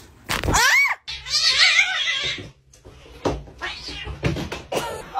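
A domestic cat meowing loudly and close, a strained drawn-out meow followed by several more caterwauling calls of varying length, with a few knocks and some faint human voice in between.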